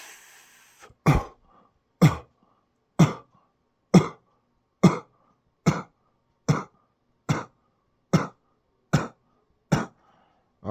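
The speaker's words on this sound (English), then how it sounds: "I hope we didn't waste time on your show coughing from all that smoke" Smoke-induced coughing from a person, a series of about ten sharp, evenly spaced single coughs roughly one second apart, close and distinct against near silence.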